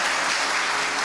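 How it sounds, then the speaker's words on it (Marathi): Loud, dense audience applause at a Diwali dawn music gathering of teachers, a steady wash of many hands clapping at once with no break, filling the whole short stretch. "अजून एकदा जोरात टाळ्या"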